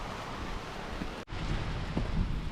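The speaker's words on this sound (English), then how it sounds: "Rain's coming down a little harder" Steady rain falls on a hiker along the West Highland Way in Scotland, a broad continuous hiss with no speech and one brief dip partway through.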